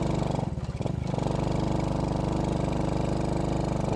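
A motorcycle engine revs hard and steady while climbing an extremely steep hill road past rivers and cliffs, a loud continuous throbbing drone with a brief dip in the first second.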